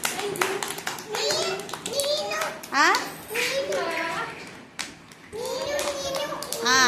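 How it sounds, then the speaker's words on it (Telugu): Preschool children clapping their hands in a classroom activity, bursts of small-hand claps mixed with excited kids' voices and chatter, close and lively. "బాగా పెట్టండి. క్లాప్స్ కొట్టండి."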